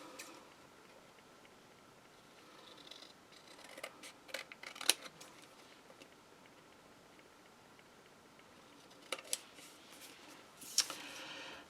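Scissors trim a paper tag in a quiet room, giving a few sparse, crisp snips scattered across the clip, some close and sharp, with faint rustling between them and no talking.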